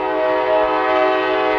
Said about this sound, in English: We got a train going by, so we're gonna stop for a second because it's just killing the audio on this